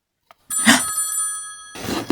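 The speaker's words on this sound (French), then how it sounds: "Nouveau coup de téléphone." A phone rings loudly in a Playmobil Secret Story scene. After a tiny click, a continuous bright electronic trill sounds alone for over a second, goes briefly quiet, then starts again near the end.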